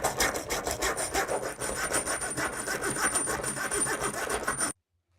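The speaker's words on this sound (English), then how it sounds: "I'm going to cut off the ends using a hacksaw." Hacksaw cutting the ends off a stainless steel tube, a steady rasping rhythm of quick back-and-forth strokes, close and loud, continuing without a break before stopping abruptly near the end.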